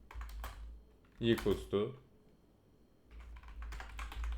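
Short bursts of clicky typing on a computer keyboard while entering code, soft keystroke clusters at the start and end, with someone speaking briefly in between.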